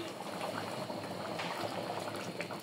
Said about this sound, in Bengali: এই যে মাংসগুলো সিদ্ধ হয়ে গেছে, খাসির গোশ